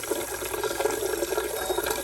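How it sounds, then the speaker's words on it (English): Water runs steadily from a motion-sensor faucet into a sink, a continuous close splashing stream with no talk. "Here's an example of water triggering the motion sensor."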